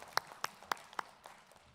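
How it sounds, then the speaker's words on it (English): A few sparse, quiet claps from an audience at a school spelling bee, five or so scattered hand claps with faint room noise between them. "let's give them a round of applause for that"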